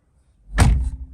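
A single solid thud of a Ram 3500 pickup truck door, with a brief rattle and low rumble trailing off afterward, close by with no talking.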